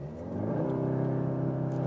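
An Audi S3 launches hard under launch control, its engine rising from a low hum into a steady, strong droning pull heard from inside the cabin.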